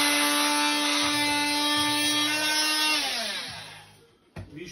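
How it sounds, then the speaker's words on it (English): A plastic fitting's lug is cut off with a power saw, giving a steady, close buzzing whine with rough rubbing undertones that winds down in pitch and fades, followed by a brief knock. "so cut the lug off."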